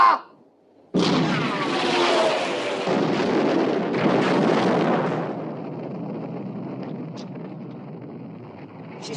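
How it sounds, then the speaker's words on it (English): A warship's main guns fire during a naval battle, one sudden heavy blast followed by a long roaring, rumbling blast wave that slowly fades into wind and sea noise, loud and close. "Open fire, main armament."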